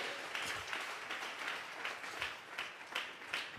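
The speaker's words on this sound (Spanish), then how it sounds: "Regálele ofrenda de palmas al Dios de la gloria" Church congregation clapping in rhythm during a Spanish-language Bible study service, a faint, steady run of hand claps with regular pulses about every third of a second, distant and unaccompanied by voices.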